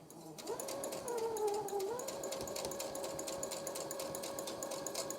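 A sewing machine runs steadily with a rapid mechanical chatter, its motor whine rising briefly near the start then holding even, fairly close by.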